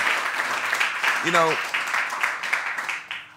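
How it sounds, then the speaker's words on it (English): An audience applauds in a dense, steady wash of clapping, with a voice briefly rising over it partway through. "I just give you a round of applause for just that"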